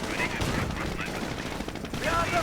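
Rapid machine gun bursts crackle in a World War II strategy game battle involving Panzergrenadiers and an M8, dense overlapping gunfire filling the whole moment at moderate loudness.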